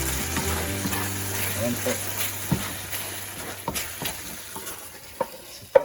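Chicken teriyaki caramelizing in a hot pan, a steady close sizzle with stirring scrapes and a few sharp utensil knocks, with a brief spoken remark partway through.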